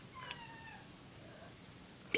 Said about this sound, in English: Did you hear that squeak in the background? That's my cat.